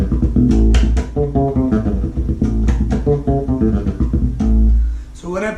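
Electric bass played near the bridge for a bright funk tone, a steady run of punchy plucked notes with slapped, percussive attacks, loud and alone with no talk.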